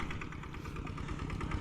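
A tractor engine runs steadily close by, a continuous low, rough rumble with slight rhythmic pulsing and no speech over it.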